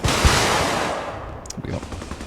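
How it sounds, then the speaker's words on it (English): Helicopter rockets fired in the Arma Reforger video game: a loud burst of rapid launches and blasts opening the moment, then a rumbling tail as the noise fades, with some voice chatter faintly beneath. "I'll just dump these rockets."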